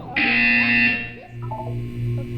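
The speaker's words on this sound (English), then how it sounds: "You will hear a buzzer." A harsh electronic buzzer in Portal 2 sounds once for nearly a second, then a quieter tonal hum and soft electronic tones continue.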